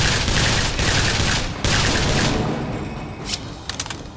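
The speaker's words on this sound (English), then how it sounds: "Just gonna kind of try and snipe him out. This is what the hand cannon's for." Hand cannon gunfire in the BioShock Infinite: Burial at Sea video game, a dense, loud burst of shots and booms through the first few seconds, then a few sharper isolated reports near the end.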